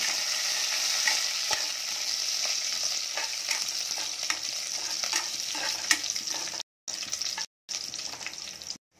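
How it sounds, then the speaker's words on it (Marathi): Curry leaves and garlic frying in hot oil, a continuous close sizzle with occasional stirring scrapes, briefly cutting out near the end, no talk. "तर कढीपत्ता टाकूया"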